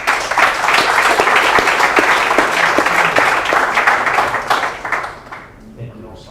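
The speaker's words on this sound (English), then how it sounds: "Another applause, please." Audience applause after a data science talk, dense sustained clapping from a crowd that holds steady, then tapers off and fades toward the end.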